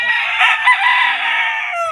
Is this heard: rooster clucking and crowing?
yes